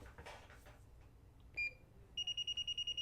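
Hioki multimeter over-voltage warning alarm going off above 1,000 volts: a short high electronic beep, then a steady run of about eight rapid, evenly spaced loud beeps against faint background noise.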